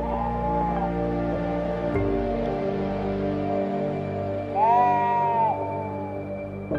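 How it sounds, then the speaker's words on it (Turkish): Lambs bleat twice, a high wavering call at the start and another a few seconds later, over a constant low background hum. "Kuzularımız."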